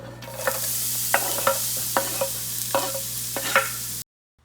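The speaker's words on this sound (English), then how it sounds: "We got the tofu and onions frying up in this pan here." Tofu and onions sizzle steadily in a hot pan while a utensil scrapes and stirs at an uneven rhythm, close up, then it stops abruptly.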